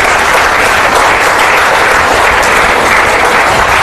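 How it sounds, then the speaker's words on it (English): An audience at a school spelling competition breaks into loud, sustained applause, dense clapping from a crowd filling the room steadily from start to finish with no talk over it. "Let's have a big round of applause."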